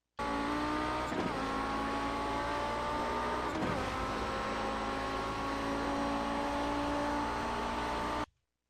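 Audi 90 GTO race car lapping Silverstone in a racing video game, its engine droning steadily with rising and falling pitch and two brief gear-shift dips, continuous and close throughout.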